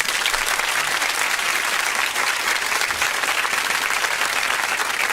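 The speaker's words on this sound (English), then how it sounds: "If Mom can get an applause." A radio studio audience breaks into sustained applause, a thick, even wash of clapping that holds at constant loudness throughout, with no voices rising above it.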